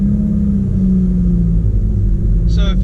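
A 2017 Subaru WRX fitted with a Perrin steering dampener lockdown, on a test drive on straight roads: steady low engine rumble and road noise inside the cabin, with a brief higher-pitched sound near the end.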